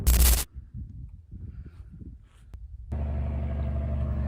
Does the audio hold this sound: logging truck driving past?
yes